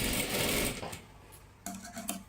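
A sewing machine stitches a salwar seam in a brief burst of dense, buzzing rattle, then stops and restarts with a short, quieter run, close and with no speech.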